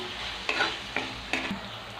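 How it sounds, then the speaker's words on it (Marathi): Onion and spices for egg bhurji sauté in a pan under a soft sizzle, with three distinct spatula scrapes and knocks against the metal at a steady pace, close by. "झाकण काढलं आणि आता पुन्हा थोडंसं एकदा परतून घेऊया"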